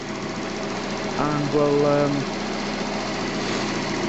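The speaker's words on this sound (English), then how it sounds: "Right, the engine's warming up now." The engine of a Citroen Xantia idles while it warms up before an oil change, giving a steady low mechanical hum. A person talks briefly over it partway through.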